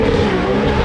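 A Ferrari Portofino's V8 roars loud and close in one brief, continuous blast of engine sound at a hill climb event.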